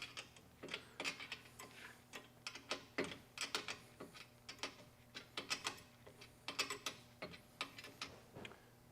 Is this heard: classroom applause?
no